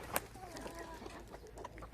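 Malatya Arab breed hen with her chicks, soft clucking and brief peeping calls scattered through a short stretch, one sharper call near the start, close by over low farmyard background.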